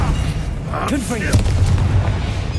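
A Confringo fire-spell explosion in the video game Hogwarts Legacy: deep, heavy booms that rumble steadily through a brief stretch of combat, with a shouted voice over the blasts.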